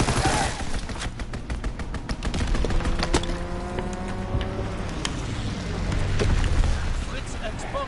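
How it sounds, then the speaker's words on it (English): A strafing run in a World War 2 video game brings bursts of rapid machine-gun fire crackling over rumbling engine noise, loud and close, with a voice speaking in the mix. "Strafing run inbound."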